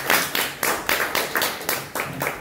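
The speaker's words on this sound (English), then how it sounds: "Give them a round of applause" A few people clap together in a small room, roughly ten sharp, evenly spaced claps over a couple of seconds, close and moderately loud with no one speaking.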